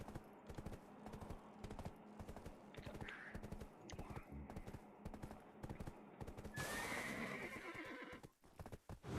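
A horse in the video game Black Desert neighs and whinnies over a steady run of clip-clopping hooves, with a rising rush of wind or motion near the end and no talking.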